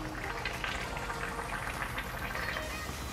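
Mangalore buns frying in hot oil make a busy, crackling bubbling sound. It stays even and moderately loud throughout, with no voices over it.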